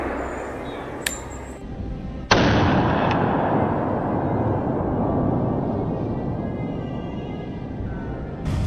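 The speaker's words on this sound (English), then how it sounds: "Trunk Bernie raised his rifle, took careful aim, and pulled the trigger." Rifle shot fired at a wild boar in a Florida swamp, one sharp loud report followed by a long rumbling decay, with a faint clink just before it.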